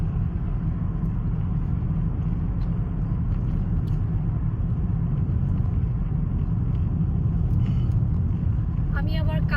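A car driving at night gives a constant low engine and road rumble inside the cabin, loud and unbroken, with faint knocks near the end.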